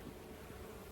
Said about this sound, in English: So the busy honeybees are busy.